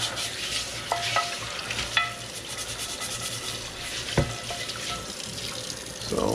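Running tap water pours continuously over a Dutch oven being scrubbed clean at a sink, with scattered scraping clicks and a few sharper knocks, fairly close.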